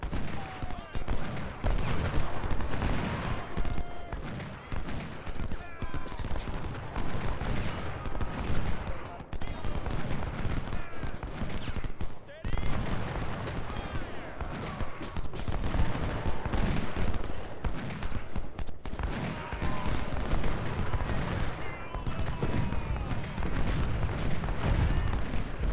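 Cannon artillery booms and rolling musket volleys fill a Civil War battle in Ultimate General: Civil War, dense and continuous throughout, with a voice talking over the fighting at times.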